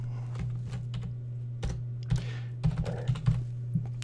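A computer keyboard clacks as a section name is typed in PowerPoint, a short burst of close key presses with a few louder taps near the end, over a low steady hum.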